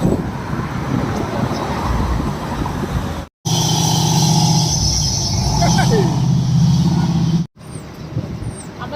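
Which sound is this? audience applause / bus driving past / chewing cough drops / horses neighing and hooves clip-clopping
bus driving past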